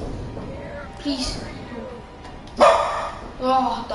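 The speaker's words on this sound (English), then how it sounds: "Oh, dog scared me." A dog barks in the video game Five Nights at Freddy's Security Breach, with sharp bursts rising over game ambience. A player talks throughout.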